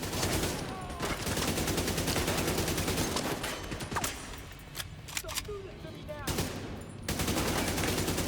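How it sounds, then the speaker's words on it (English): Rapid bursts of AK rifle fire in a video game crackle in quick volleys, interrupted by brief pauses, with a player talking intermittently over the shooting. "So this is AK, because it is an AK."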